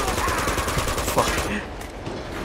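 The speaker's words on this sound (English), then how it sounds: "blind fire kills" Gunfire in Uncharted 2 keeps up as a dense, steady rattle of rapid shots throughout, mixed with game noise and loud enough to fill the whole stretch.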